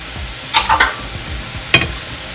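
A vegan stir-fry sizzles in a pan as sauce goes in and gets stirred, with a few sharp scraping bursts over a soft steady hiss, heard close by without talking.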